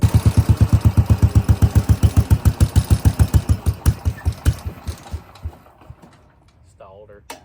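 An Oldsmobile Cutlass G-body race car engine chugs in slow, heavy, evenly spaced pulses that gradually weaken and fade out as it stalls, leaving near silence.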